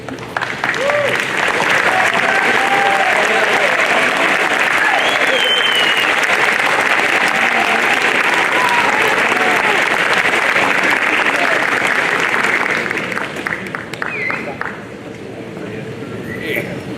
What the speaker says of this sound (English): Graduates, please stand and give them a round of applause.